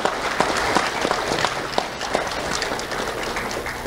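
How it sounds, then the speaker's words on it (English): Audience applause for a school board at a Do the Right Thing awards ceremony, steady dense clapping from a crowd lasting throughout with a few sharper claps standing out. "Let's have a round of applause for the school board and Dr."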